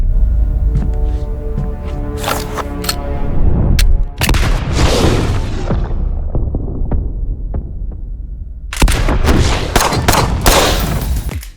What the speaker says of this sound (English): I hope you guys enjoyed that slow motion gunshot showcase